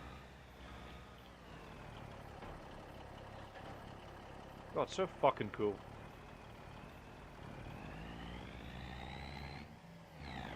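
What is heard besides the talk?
truck engine in a farming video game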